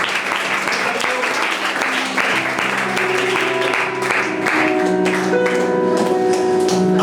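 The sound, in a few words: church congregation applause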